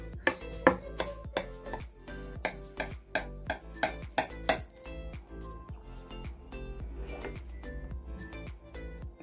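A knife cuts through a poppy seed revani cake, the Turkish semolina dessert, in a run of sharp, close chopping knocks against a board, fast and regular at first and then lighter and more spaced.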